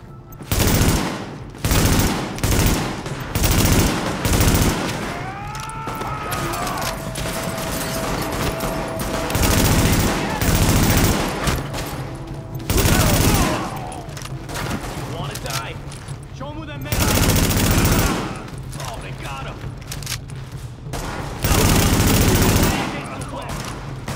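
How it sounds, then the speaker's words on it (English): Heavy automatic gunfire in Tom Clancy's The Division, long rattling bursts of rifle fire repeating in loud volleys with short gaps between, a voice speaking between the shots. "The escort party's taking heavy fire from the roof."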